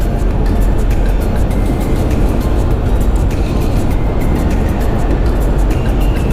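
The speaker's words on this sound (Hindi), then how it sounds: "बाहर से इंजन की ज़्यादा आवाज़ आ रही होती है" A loud, steady car engine rumble drones continuously, as if heard from inside the moving car, with no voices over it.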